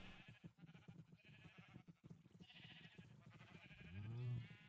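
Sheep bleats from a small Minecraft sheep farm come and go at a moderate distance, swelling into a louder, nearer bleat near the end over a low game ambience.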